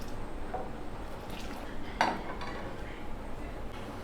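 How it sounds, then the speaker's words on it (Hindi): A spoon stirs ginger milk tea in a pot with faint scraping and liquid movement, marked by a single clearer clink of metal against the pot midway. "इस तरह चम्मच चला लें"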